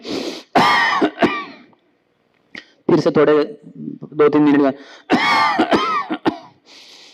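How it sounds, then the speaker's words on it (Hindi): A lecturer giving a spiritual discourse on the Srimad Bhagavatam coughs and clears his throat in a short burst near the start, then keeps speaking with further brief pauses. "तो आप सबको समझेगा ये प्रभु जी को शायद खांसी हो गई है कि नहीं।"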